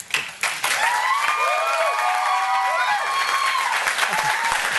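Audience applause at a public presentation meeting for a K Park proposal, steady sustained clapping filling the room throughout, with some voices mixed in.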